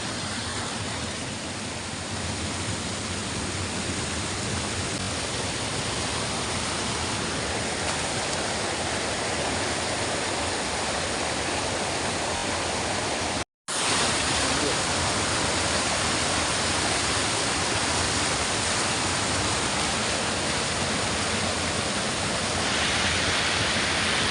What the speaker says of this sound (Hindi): पूरा एक वाटरफॉल भी बनाया देखिए यहाँ पे।